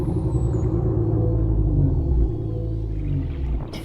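A Leviathan creature in the underwater game Subnautica lets out a long, low, moaning whale-like call, a deep rumbling drone with a faint high gliding tone above it, sustained and fairly loud.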